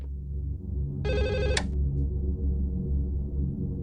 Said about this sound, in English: there's a phone call for us.